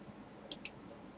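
Two quick, light computer mouse clicks in close succession, crisp and near, against a quiet background.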